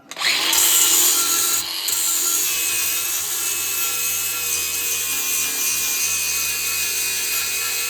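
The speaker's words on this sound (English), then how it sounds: "Let's grind a little bit." A power grinder works metal for an offset smoker stack hinge and stand, starting with a sharp bite then settling into a steady loud whine and rasp that runs unbroken, close by with no talking.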